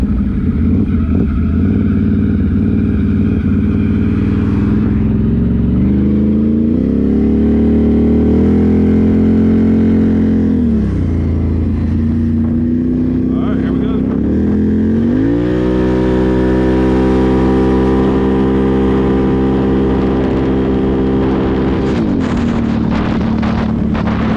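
A sport motorcycle in sport mode revs hard on a road test ride, its loud engine climbing and falling through several sustained gear pulls with steady wind rush.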